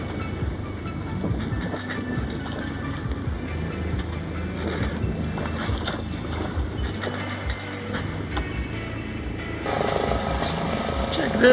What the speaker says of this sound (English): As the sun sets, a Coast Guard search and rescue helicopter keeps us